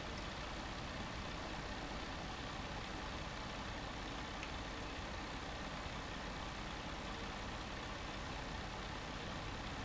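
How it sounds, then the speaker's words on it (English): A Kenworth K100 truck engine idles in American Truck Simulator, giving a steady, unbroken drone with no speech over it. "Let's get the engine on and the lights on."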